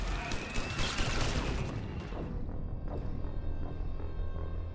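A salvo of weapons fire in the sci-fi shooter Mass Effect 3, heard as a dense, sustained roar of rapid blasts and rumbling explosions that gradually thins out into a lower, rumbling battle din.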